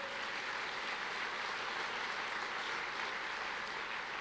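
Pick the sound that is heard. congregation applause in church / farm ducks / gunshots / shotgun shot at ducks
congregation applause in church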